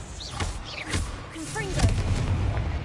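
Booming spell explosions from Confringo and Bombarda in a Harry Potter video game land as several dull thuds under a voice shouting spell names.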